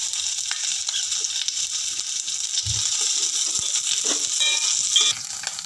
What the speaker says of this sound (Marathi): आता आपलं कांदा शिमला मिरच छान परतून घेतलं आहे, हे मिश्रण करपू देऊ नका।